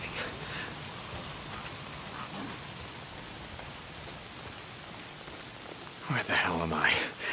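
Steady rain falls throughout in the video game Days Gone, a dense hiss of drops on surfaces, with a brief louder rustling burst near the end.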